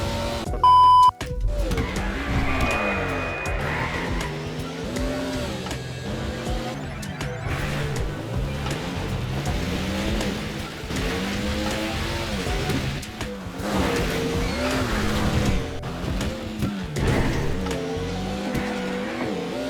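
Pfister Comet Safari, a Porsche 911 Safari-style rally car, driven in GTA Online, with a steady engine drone, shifting revs and tire squeals running loud and continuous throughout, plus a brief beep near the start.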